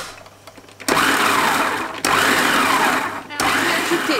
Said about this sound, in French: Et je vais mixer pour encore avoir des petits morceaux de flocons, mais pas trop quoi en fait.